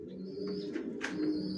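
Johnson-line racer pigeons coo in soft, low, throaty rolls, with faint higher chirps over a steady murmur; the sound is close and continuous.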